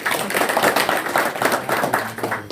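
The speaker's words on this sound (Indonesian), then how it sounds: "Oke, tepuk tangan Mas Anto." An audience claps for a performer named Mas Anto at a Javanese cultural event, a dense, steady patter of many hands lasting a few seconds with no voices over it.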